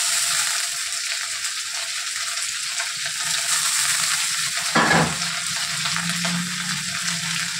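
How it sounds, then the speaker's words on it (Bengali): Onions fry in a pan with added ginger and garlic, a continuous moderate sizzle broken by one brief scraping stir near the middle. "একটু লালচে করে আমি পেঁয়াজগুলোকে ভেজে নেব।"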